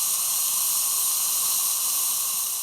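A pressure cooker vents steam through a silicone steam diverter under a kitchen cabinet, giving a steady, even hiss that holds at a constant level with no voices.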